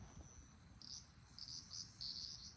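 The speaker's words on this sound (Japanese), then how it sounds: "セミめっちゃ鳴いてるな、セミ" Cicadas sing at a summer campsite in Fukui, Japan, in repeated high buzzing bursts that pulse over a soft low background rumble, faint and without voices.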